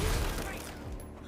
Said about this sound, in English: we're shooting these guys